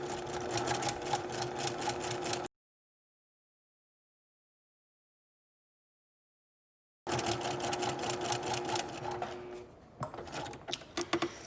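A sewing machine stitching rows on a puff sleeve, running in a fast, steady mechanical rattle, then stopping into silence, then resuming before slowing to a few uneven clicks.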